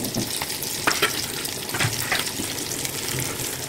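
Beef shami kebabs fry in hot ghee, giving a steady, close sizzle with crackling pops and occasional soft stirring or scraping throughout.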